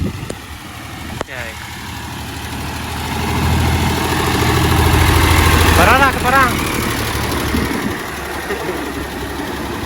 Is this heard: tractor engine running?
yes